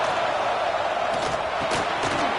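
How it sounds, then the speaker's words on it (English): Home crowd in a college football video game with Oregon at home roars loudly and steadily, a dense wall of cheering with occasional sharper shouts rising out of it. "how nice is it to have the home crowd going absolutely bananas?"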